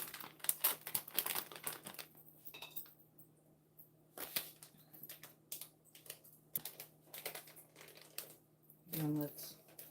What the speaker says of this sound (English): So we'll just break out this new bag.